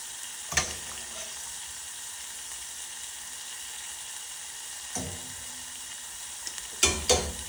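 Shrimp sizzling in a very hot cast iron pan, a continuous close hiss and crackle with a few sharper spatters and stirring clatters breaking through.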